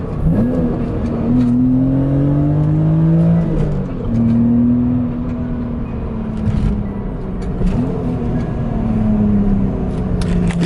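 Engine droning and revving from inside a BMW Z3 M Coupe, rising in pitch through the gears with brief dips between shifts, loud and steady.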